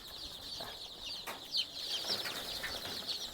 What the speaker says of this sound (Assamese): ইয়াৰ লোকেল মুৰ্গী পোৱালি ৰাখিবৰ কাৰণে চেষ্টা কৰিছে